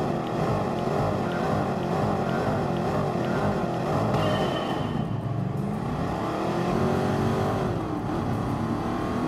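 A De Tomaso Pantera classic Italian sports car in Gran Turismo Sport, its engine droning loud and continuous with rising and falling revs as it laps a course, no talk.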